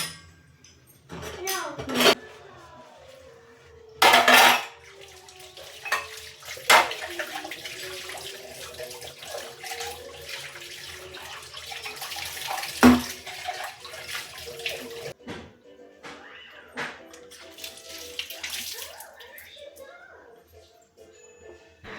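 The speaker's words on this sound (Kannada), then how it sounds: "ಆ ಪಾತ್ರೆ ತೊಳ್ಕೊಂಡು ಆಮೇಲೆ ಅಡುಗೆ ಸ್ಟಾರ್ಟ್ ಮಾಡಬೇಕು" Tap water runs intermittently while dishes clink and scrape in a sink, with bursts of splashing close by.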